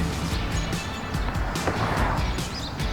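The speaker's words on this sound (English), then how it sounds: "Watch that car approaching" A car rolls toward the listener while aboard a vehicle-carrying car train, its engine and tyre rumble a steady, fairly loud broadband drone with no talk over it.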